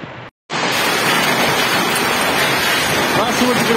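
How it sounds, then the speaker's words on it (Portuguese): A heavy hailstorm with torrential rain pounds down in Uberaba, Minas Gerais, Brazil. After a brief cut at the start, a loud, dense, continuous roar of falling ice and water fills the clip close to the microphone. "Olha só, é muita pedra, olha, muita chuva de granito, olha."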